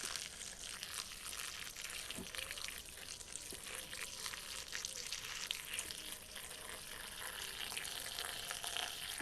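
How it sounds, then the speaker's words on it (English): Water poured into a potted lipstick plant (Aeschynanthus) in well-draining potting mix, a steady, fairly faint trickle and splash running throughout with no talk. "I'll water it."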